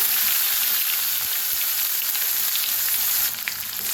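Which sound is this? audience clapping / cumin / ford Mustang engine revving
cumin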